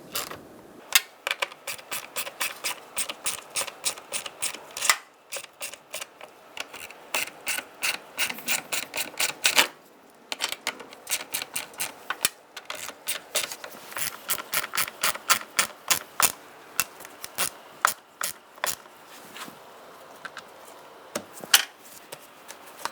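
Ratchet wrench tightening self-threading bolts by hand on a 2012-2017 Hyundai Accent during radiator replacement, a steady run of crisp, close clicking bursts in repeated spurts with short pauses, no voices.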